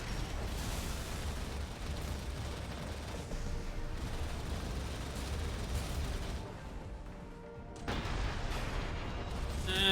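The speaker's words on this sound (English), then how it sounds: "Oh, I just love it when they use the grenade cannons like that." Grenade cannon fire from mechs in a combat video game sounds as dense, rumbling explosions and booming blasts that continue for several seconds, dip briefly, then resume loudly, with no voices heard.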